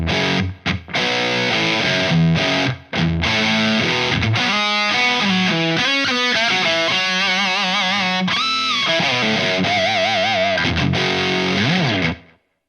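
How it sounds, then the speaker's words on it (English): Electric guitar driven through a Proco Rat style distortion pedal set to a reasonable gain, playing loud sustained chords and bent single-note lines with heavy saturation, continuous for about twelve seconds with brief gaps near the start. "It's a distortion pedal with a ton of gain on it"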